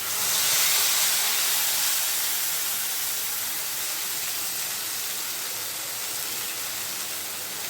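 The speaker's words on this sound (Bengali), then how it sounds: "কড়াইতে পেস্টটা আমি তেলের মধ্যে দিয়ে দিচ্ছি।" A spice paste of Kashmiri red chilli hits hot oil in a wok for a lauki and paneer curry, giving a loud, steady sizzle that swells at first and then settles into a continuous hiss with no talking.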